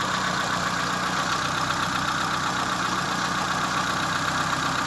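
Steady, unbroken whirring drone of a Mitsubishi E-Car 4G15 engine idling with its radiator cooling fan running and air conditioning off, constant in level throughout with no voices.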